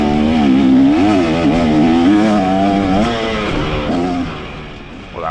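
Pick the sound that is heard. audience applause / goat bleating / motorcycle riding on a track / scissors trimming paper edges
motorcycle riding on a track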